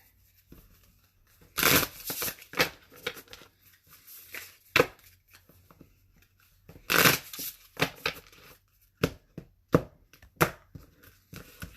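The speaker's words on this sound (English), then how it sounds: "Okay, good and shuffled." Repeated bursts of tarot cards being riffled and bridged, each shuffle a quick rustling flutter followed by soft taps and handling noises, close up with no talking.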